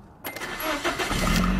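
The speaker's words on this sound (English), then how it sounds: "boom, the car turns on right away" A Nissan 240SX S13 convertible with a 1JZ engine and automatic transmission starting: a short cranking burst catches and settles into a steady mid-pitched idle, close and loud.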